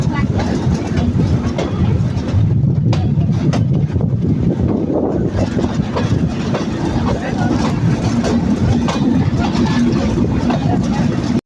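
Benapole Express pulling out of Kalukhali Junction station in Bangladesh: a continuous loud low rumble and clatter of the moving train with wind buffeting the microphone, steady for the whole stretch.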